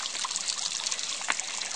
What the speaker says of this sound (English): we have arrived at the water fountain